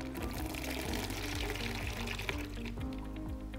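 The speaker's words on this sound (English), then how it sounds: "Let's flush the unit" Water rushes steadily through a Caleffi backflow preventer as the unit is flushed with the downstream shutoff valve open, a continuous broadband hiss and gush with faint low clunks underneath and no talking.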